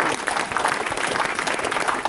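Crowd applause at a steam locomotive naming ceremony during a works open day, dense steady clapping from a gathered audience lasting the whole moment, fairly loud and close.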